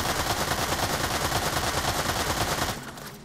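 AI enemies in Fortnite fire sustained automatic gunfire, a dense, loud, rapid stream of shots that hammers on without pause and then cuts off sharply near the end, leaving a quieter tail.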